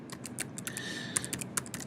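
Quick, light keystrokes on a computer keyboard, an uneven run of close clicks over a soft background hum.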